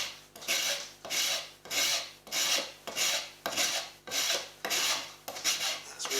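Coarse file rasping off the corner of a wooden part for a sanshin or shamisen build, eight rhythmic strokes about one per second, each a close, loud scraping swell that fades between strokes.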